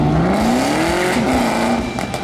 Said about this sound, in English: it's the sound that really sets the Camaro ZL1 apart from any other car on the road